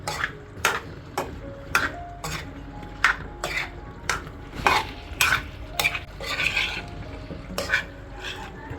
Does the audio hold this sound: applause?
no